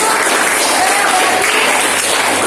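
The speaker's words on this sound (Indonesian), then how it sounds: "Oke, baik sekali, tepuk tangan untuk Ayu." Classroom applause fills the whole stretch, a steady dense patter of many students clapping together at close range, loud and even throughout with no talk.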